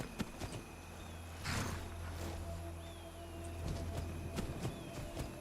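A horse in the video game Skyrim, with soft hoof clip-clops and faint animal snorts over a low ambient hum, fairly quiet and spread across the moment with no talking.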